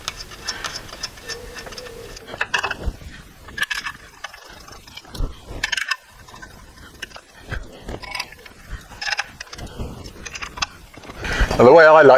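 Six bolts go into a clutch pressure plate on an engine during rear crank seal replacement, giving a run of small metallic clicks and scrapes that sound up close under intermittent talk.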